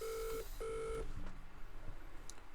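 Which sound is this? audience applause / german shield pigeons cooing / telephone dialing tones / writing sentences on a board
telephone dialing tones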